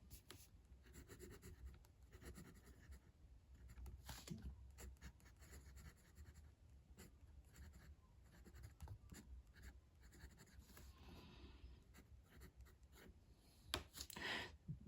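A Midori fountain pen with a steel medium nib writing on paper, making a faint, close scratchy rustle of strokes and short pauses that continues throughout.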